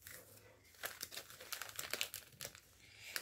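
Paper folded by hand into an origami dragon gives soft, quiet crinkles and crisp creasing rustles in irregular bursts, close up, with no one speaking.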